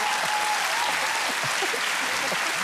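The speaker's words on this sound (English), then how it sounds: "A round of applause for Jack." A television studio audience applauds loudly and steadily for Jack, a dense sustained wash of clapping with no break from start to finish.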